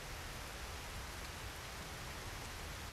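Rain pours in a scene from the anime Death Note, a steady, dense hiss of falling drops with no breaks, soft and even throughout.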